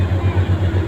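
Rupali, a passenger launch on the Dhaka to Barisal route out of Patuakhali, churns past at night with a low, steady diesel throb that pulses in a loud, close rhythm.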